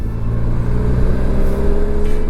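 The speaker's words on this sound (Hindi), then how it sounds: "6th गियर पे ही पुल देखो इस बाइक का" A Kawasaki Versys 1100 motorcycle engine pulls steadily in sixth gear, a loud, continuous low drone with a slowly rising tone over the whole stretch, no voices present.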